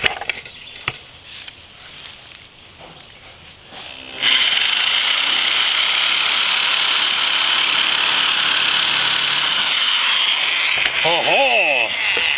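A handheld nibbler cuts sheet metal for a dome roof. Quiet handling noises come first, then a loud, steady, harsh mechanical buzz takes over and runs without a break to the end.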